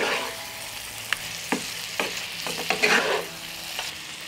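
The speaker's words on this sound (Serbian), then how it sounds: "Promešat ću i pržite još 1 minut" Zucchini frying in a pan while being stirred, a soft continuous sizzle punctuated by several distinct scraping and clacking strokes of a utensil, close and with no talking.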